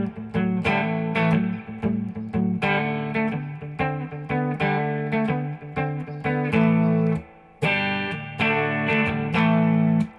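Gibson Les Paul Custom 1980 electric guitar on the treble pickup, strumming rock and blues chords in a steady rhythm with a brief pause partway through, loud and close, with no voices.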